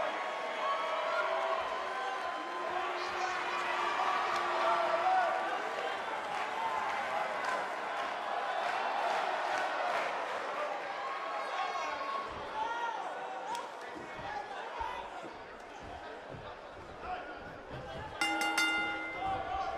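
Sold-out arena crowd at a women's wrestling match, a constant roar of chatter, cheering and scattered clapping filling the space, with voices talking over it throughout.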